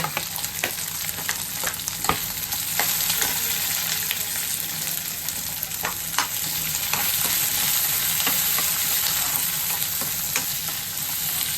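Green chillies, onion and garlic fry lightly in a pan with a steady soft sizzle, broken by occasional clinks and scrapes of a stirring spoon, heard close with no talk.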